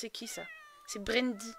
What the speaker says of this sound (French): Ah non, c'est un chat.